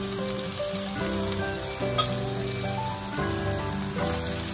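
Onions sizzle and fry in hot oil in a pan for spinach lentil dal, a steady, dense crackle with occasional stirring scrapes, close and continuous with no talking.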